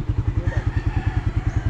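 A motorcycle engine idles close by with a steady, pulsing low throb, its regular firing beats carrying on through the whole moment outdoors.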